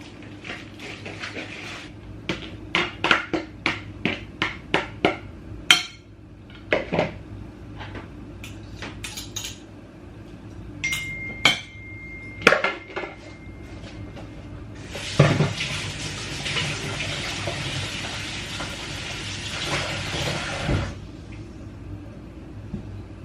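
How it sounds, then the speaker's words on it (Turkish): Dishes and utensils clink and clatter in a series of sharp knocks, followed by a long rushing wash of noise near the end, close by with no talk. "güzelce karıştıracağız"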